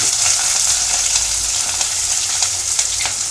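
Onions, green chillies and garam masala frying in a pan for a mutton drumstick curry, a loud, continuous close sizzle with faint stirring scrapes throughout.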